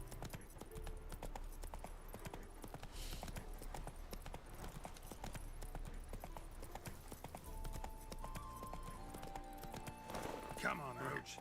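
Roach, the horse in The Witcher 3, galloping with rapid rhythmic hoofbeats over continuous game ambience, near and steady, while someone talks over the action.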